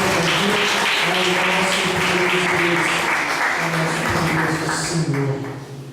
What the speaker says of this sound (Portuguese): dá uma linda salva de palmas para o Senhor Jesus Cristo